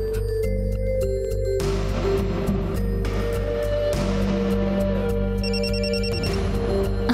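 An incoming call sets a telephone ringing in a Crime Patrol TV drama scene: a steady electronic ring of repeated tonal chimes plays loud and close throughout, with no one speaking.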